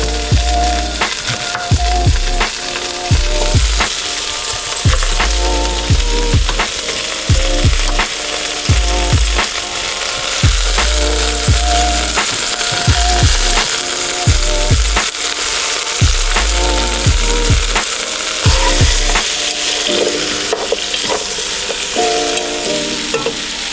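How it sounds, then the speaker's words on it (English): Vegetables for homemade salsa simmer and sizzle in a hot pan, steady and close, with a regular rhythm of knocking and scraping as a utensil stirs against the pan, and no voices. "Bring it to medium low now that everything is hot, and just let it simmer and extract all the flavors"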